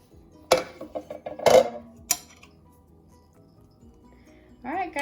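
A pan of chocolate cherry monkey bread is flipped onto another pan, giving three sharp metallic knocks in quick succession, followed by quiet and a brief voice at the end.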